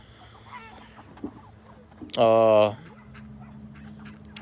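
Hens and chicks in a coop and brooder cluck softly, with one loud, sustained squawk in the middle; a voice speaks briefly over the low background of birds.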